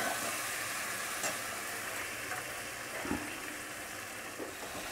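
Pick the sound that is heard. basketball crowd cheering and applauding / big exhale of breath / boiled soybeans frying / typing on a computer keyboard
boiled soybeans frying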